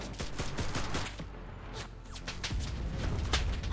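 Dense, chaotic battlefield gunfire in a WW2 shooter game, with carbine shots among continuous overlapping rifle and machine-gun fire at varying distances, steady and loud throughout.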